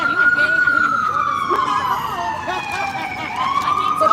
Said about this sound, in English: let the sirens, let this ambulance pass by.